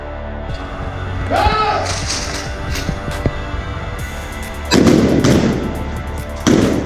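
Handgun shots at a police firearms qualification range, sharp reports near and far with a heavy double blast late on, over a steady background hum and occasional voices.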